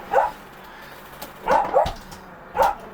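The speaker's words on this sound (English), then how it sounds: "My dog's going crazy there." A dog barks in three short bursts, a single yap then a quick double bark and another single one, moderately close indoors over a quiet background with no talking.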